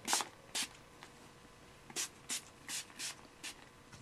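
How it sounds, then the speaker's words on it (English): Aquage Sea Salt Texturizing Spray mists onto hair in about nine short, sharp hissing bursts, some single and some in quick pairs, close to the mic against a quiet background. "I'm going to take some Aquage Sea Salt Texturizing Spray"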